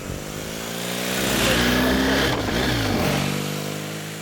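A BMW R1250GS motorcycle riding on tight mountain twisties, its engine revving up to a swelling peak and easing off again, steady and fairly close with wind rush.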